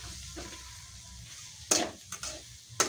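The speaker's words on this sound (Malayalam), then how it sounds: "നല്ലവണ്ണം മിക്സ് ചെയ്ത് കൊടുക്കണം." Macaroni being stirred into a masala gravy in a pan, with a low bubbling simmer throughout and a few sharp scraping strokes of a spoon against the pan near the end.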